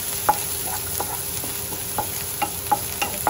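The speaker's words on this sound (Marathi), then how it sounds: "सो ते कांदो बरो भाजून घेया." Onion fries in a pan with mustard seeds for a Goan bhaji, a steady close sizzle broken by several crisp scraping taps as a spoon stirs the pieces.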